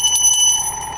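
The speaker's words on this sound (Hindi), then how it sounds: "अब बजाते हैं घंटी" A small hand bell rung at dawn for morning worship of a household deity, giving a rapid run of bright, ringing strikes with a sustained metallic tone, close and loud, with no talking.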